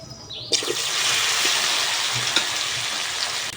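Peeled boiled taro dropped into hot oil with cumin seeds, a sudden loud burst of sizzling that then settles into a steady, dense crackle of frying close by.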